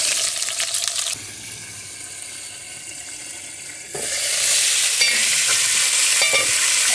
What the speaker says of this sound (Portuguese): Temperei com alho, sal, pimenta do reino e passei um fubá que é para não pregar. Agora você vai aqui e põe para fritar.